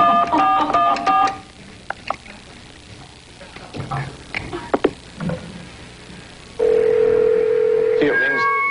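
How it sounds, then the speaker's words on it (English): A red telephone on a 1986 television game show plays dialing tones: a quick burst of touch-tone beeps, scattered clicks and handling noises, then a sustained steady tone, close and loud. "Bronson is actually going to dial the White House."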